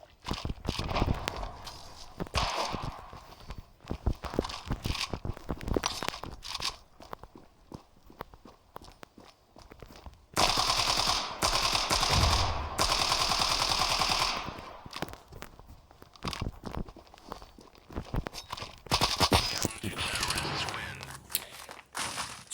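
Bursts of machine gun fire in a first-person shooter video game, rapid rattling volleys separated by gaps, loudest in two dense stretches midway and near the end, with footstep-like crunches between.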